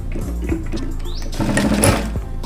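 A sewing machine runs steadily, stitching a seam along the edge of a drawstring-button pyjama, its motor droning loud and close with a rhythmic mechanical chatter and a brief rise in pitch partway through.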